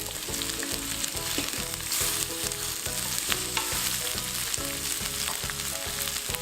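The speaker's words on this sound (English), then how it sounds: "we're going to stir fry the vegetables" Vegetables stir-fried in a warm pan for Cajun chicken enchiladas, a loud steady sizzle with a regular rhythmic scraping and tossing pulse and no voices.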